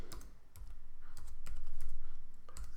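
Quick keystrokes on a computer keyboard, a short close burst of irregular clicks over a faint steady hum.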